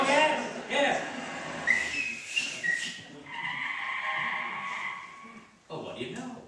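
Several rising whistled tones sound in a radio comedy scene, a person whistling to hail a taxi, with studio talk and audience noise around them.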